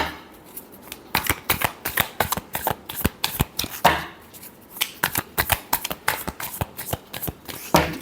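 Tarot cards are shuffled by hand close up in a fast, steady run of crisp riffling slaps and snaps that carries on without pause and has no talking over it.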